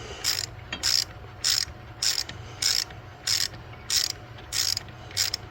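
A ratchet with a 1/4 inch 12-point socket threads an exhaust manifold stud into place, giving nine crisp, evenly spaced bursts of clicking over a low steady hum, close and fairly loud.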